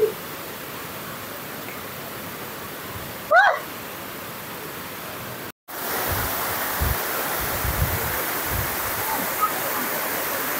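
Steady broadband rush of the Sarambu Taibai twin waterfall, a continuous roar of falling water that holds throughout, briefly broken by a short tonal squeak and a momentary dropout before resuming louder.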